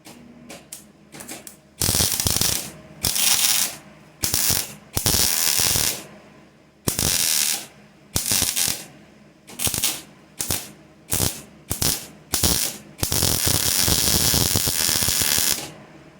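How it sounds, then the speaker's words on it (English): A Mustang Foxbody body panel gets MIG plug welded in a series of short, loud crackling bursts of varying length, separated by brief pauses, ending in one longer continuous run. "Let's go ahead and weld that one."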